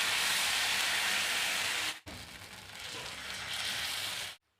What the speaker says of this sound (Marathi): तर आपल्याला 4-5 मिनिटांसाठी डोसा व्यवस्थित भाजून घ्यायचा आहे